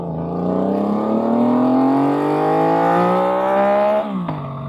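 A 2024 Yamaha MT-09 motorcycle engine pulls hard through first gear, its loud buzzing note climbing steadily in pitch before dropping sharply at the shift, close and alone.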